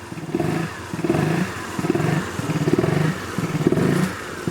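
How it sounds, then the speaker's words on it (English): Honda Forza scooter engine with a broken air filter cover, idling, then throttle snapped several times, giving repeated short revving bursts in a steady rhythm with mechanical clatter, close and fairly loud, no talking. "Just start snapping the throttle a few times."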